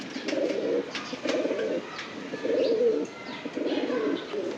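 Several rounds of soft, rolling cooing from a grizzle pigeon kept in a home loft, each phrase lasting about half a second and repeating at a steady pace, close and clear, with faint chirps from other birds in the background.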